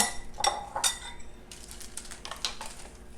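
A spoon clinks and scrapes against a small bowl while brown sugar and apple pie spice are stirred together, producing a few quick, bright metallic taps and dry scraping, close and alone.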